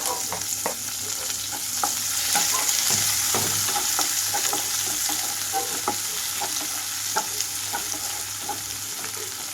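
Onions, green chillies, curry leaves and tempering seeds fry in hot oil for a ridge gourd curry, giving a steady sizzle with repeated scraping stirs of a spoon in the pan, close and moderately loud.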